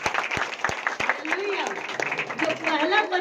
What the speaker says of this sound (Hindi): तालियां बजा देंगे जोरदार